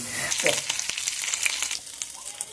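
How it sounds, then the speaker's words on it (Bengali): Flour fries in ghee with rotten coconut residue while being made into fishing bait, giving a close, steady sizzle with bubbling crackles and a few scraping stirs. "এই নারকেল পচার গাদকে দিয়ে ঘিকে দিয়ে আটাটাকে আমাকে প্রথমে ভেজে নিতে হবে"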